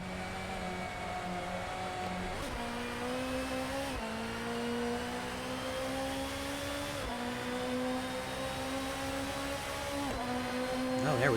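A racing-game car engine screams at high revs with a continuous, buzzing tone that climbs and drops sharply at several gear shifts, loud and steady throughout.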